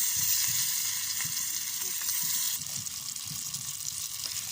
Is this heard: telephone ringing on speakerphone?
no